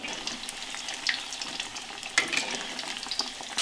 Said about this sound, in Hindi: मूंगफली की सब्जी बनाने के लिए तेल में डाला है हमने हरी मिर्च कूटकर